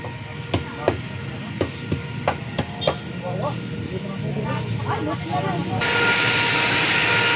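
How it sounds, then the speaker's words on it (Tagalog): Loud machinery at a pumping station at a milkfish pond roars steadily, growing louder toward the end, with sharp knocks and clanks early on and a person talking over it. "Yan, napakaingay ng pumping station."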